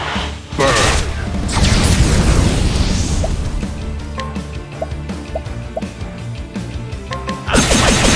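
Fire spell cast by a scholar in the role-playing game Octopath Traveler 2, a whooshing, crackling burst of flame swelling and fading, followed by bubbling, popping magical effects and a final flare under the battle music.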